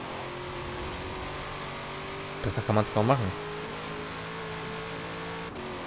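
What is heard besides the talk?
supercharged V8 engine of a Corvette C7 Z06 revving, from video game Forza Horizon 4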